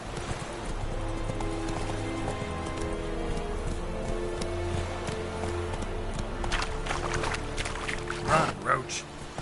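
The horse Roach galloping in The Witcher 3 video game, a steady rhythmic clip-clop of hooves under rain-like patter and ambient game sound, with a sharper burst near the end.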